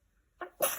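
A short, quiet sneeze: a soft intake followed by a sharp burst, heard close but at low volume.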